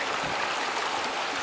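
Buffalo Creek running high, a continuous rushing and burbling of water that stays steady and full without pause, with no voices present.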